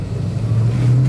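A 1965 Ford Mustang Fastback engine pulls steadily under acceleration, a loud, close, continuous low drone that rises slightly in pitch toward the end, with no talk over it.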